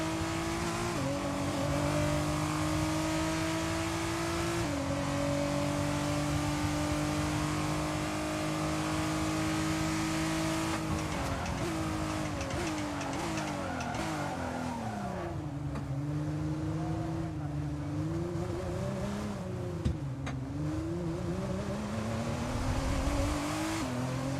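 Supercars race in the F1 23 video game on the Abu Dhabi circuit, engines holding high steady revs, then shifting and dipping through corners with rising and falling pitch, loud and continuous.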